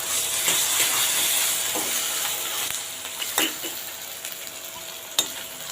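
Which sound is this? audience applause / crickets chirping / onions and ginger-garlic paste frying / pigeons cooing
onions and ginger-garlic paste frying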